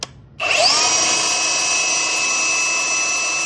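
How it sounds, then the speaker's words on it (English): A Bauer 3 x 18 inch cordless belt sander starts up abruptly on wood and runs with a loud, steady whine and buzzing hum, continuous and close. "let's get some wood, let's get the sanding"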